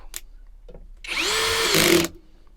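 A ratchet wrench turning a glued-in bolt on an assembled blower snail housing, a close, loud burst of mechanical whirring lasting about a second after a couple of faint taps.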